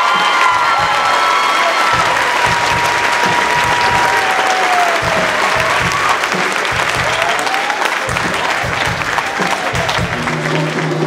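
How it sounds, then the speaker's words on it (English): A school audience applauds after a high school production of Les Misérables, steady loud clapping filling the room with some cheering, lasting throughout. "Just give him a round of applause for Mr. Galper"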